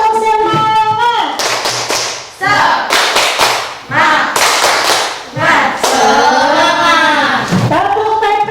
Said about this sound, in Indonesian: Ayo kita mulai. Sudah siap? Siap, Bu. Tepuk semangat.